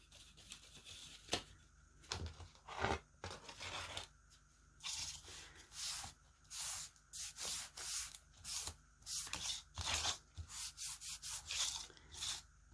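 Wax rubbed onto a chalk-painted foam core sign: soft, close scrubbing strokes in uneven bursts, growing into a quicker rhythmic back-and-forth rubbing.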